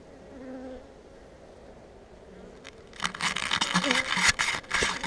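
Honeybees in an opened hive during a beehive inspection, a loud, dense buzzing that swells in suddenly partway through and then stays close and steady, following a quieter stretch with faint hum and background noise.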